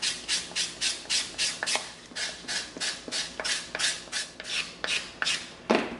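Hand sanding of an EVA foam axe with coarse 80 grit sandpaper: a steady run of about twenty rhythmic rasping strokes, close and fairly loud, with no talking.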